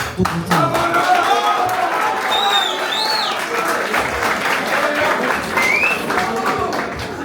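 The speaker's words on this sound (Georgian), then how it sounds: "აპლოდისმენტები" Sustained audience applause and clapping fill the hall at a TFC cage boxing event, a steady dense roar of hands with crowd whistles and voices mixed in, loud and continuous from start to finish.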